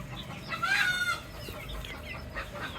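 Chickens feed on grass in a lemon orchard, with one drawn-out, fairly close fowl call rising over quiet background rustle and soft clucking.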